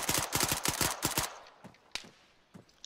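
Rapid Arma 3 gunfire: a fast burst of close shots for about a second, then sparser, quieter single cracks echoing farther off, with no talk.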